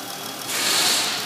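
Engine of a 2013 Dodge Charger SXT with a 3.6 liter engine idling, a steady close hum that rises slightly louder partway through and holds, with no talking.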